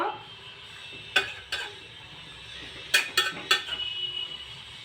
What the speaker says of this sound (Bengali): প্রথমে শাকটা আলুর সঙ্গে মিশিয়ে নেব